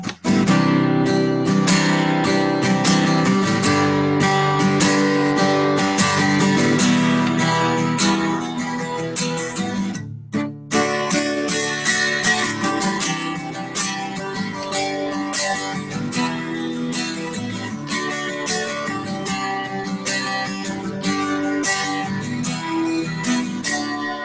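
Four chords sustained as whole notes, then the same four chords changing every half note, played on a full-sounding instrument with one brief break midway, steady and loud.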